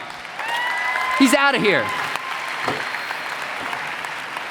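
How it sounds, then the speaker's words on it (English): Audience applause at a 2017 Momentum youth conference main session, a broad wash of clapping rising under a voice, swelling briefly then continuing steadily as he keeps talking. "I'm not sure if they're clapping for me or clapping that the atheist is gone"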